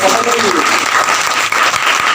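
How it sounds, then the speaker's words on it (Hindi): Loud, dense applause fills a hall at a Bagheli-language motivational talk, a sustained burst of many hands clapping at once close to the listener. "एक बार जोरदार तालियां बजा सकते हो।"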